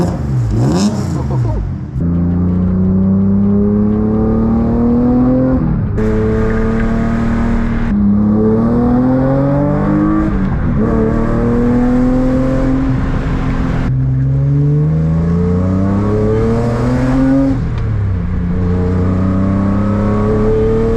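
A BMW E36 M3 with a custom two-muffler exhaust, recorded during a test drive, revs through repeated rising pulls and gear changes, loud and close with a throaty rasp that drops and climbs again.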